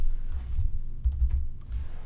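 Keys clatter on a computer keyboard in a brief run of quick, close, irregular taps over a low hum.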